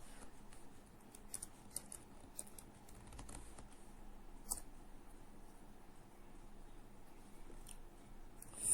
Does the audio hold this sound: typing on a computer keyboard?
yes